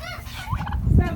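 Turkeys on a winter homestead let out a brief, loud gobbling burst close by, a rapid warbling rattle lasting about a second with no voices.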